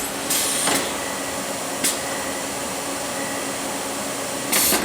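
A Sunnen ML-3500D horizontal power-stroking hone runs with a steady mechanical hum, broken by a few short bright bursts as it strokes back and forth.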